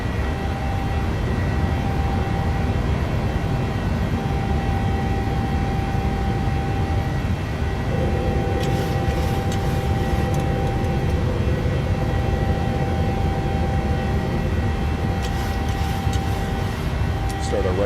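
An airliner in Microsoft Flight Simulator roars through its takeoff roll and climb-out in gusty wind at Innsbruck, a loud, steady engine drone with periodic rattles, while a man calls out over it.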